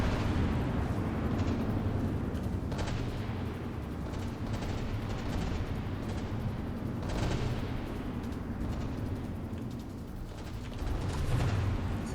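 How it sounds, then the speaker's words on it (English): Heavy naval shells and missiles strike and explode in a battleship video game, a dense, continuous roar of booming impacts and rumbling blasts with sharper bursts rising every few seconds. "More big missile and cram hits."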